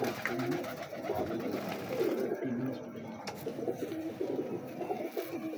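Pigeons coo softly at close range in a loft, a steady low murmuring rhythm under someone talking in Hindi-Urdu about a fancy pigeon breed.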